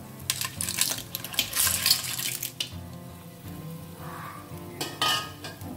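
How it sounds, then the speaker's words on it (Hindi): Clams drop into a pan of fried onions for a Goan clam curry, shells clattering loudly, then a hissing sizzle that fades and flares again as they are stirred. "तो अब इसमें डालते हैं तीसरे।"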